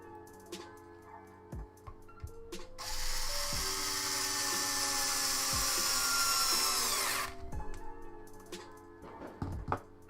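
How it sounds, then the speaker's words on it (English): A power drill whirs steadily for several seconds, with a rising whine as it tightens screws reassembling a Telecaster guitar, between shorter clicks and handling clatter. "I'm gonna go back through with my other drill and tighten these up."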